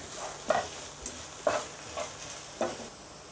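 Egg noodle mixture with chilli powder is stirred in a hot pan, giving a soft background sizzle with several distinct scraping strokes of a spoon spaced about a second apart.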